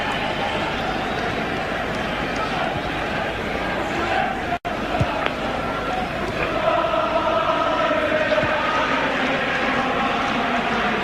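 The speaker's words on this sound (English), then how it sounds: "Liverpool crowd breaking into song again." Liverpool supporters in a packed stadium at the 1977 European Cup Final against Borussia Mönchengladbach roar and sing in a dense, continuous crowd wash, with a sustained chant rising through the noise and a brief dropout midway.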